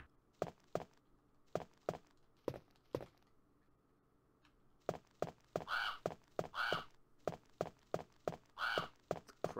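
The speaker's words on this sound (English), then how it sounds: "The crows." Crows caw repeatedly in Resident Evil 1 beta, several harsh calls clustered in bursts over a steady rhythm of sharp thuds, with a quiet ambient hum between them and no talk.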